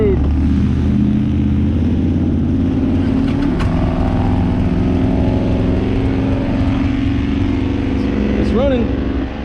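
A Kawasaki Vulcan 800 Classic VN800B motorcycle, left sitting since 2005, idles loudly and steadily up close with a continuous low engine rumble, and a voice briefly cuts in near the end.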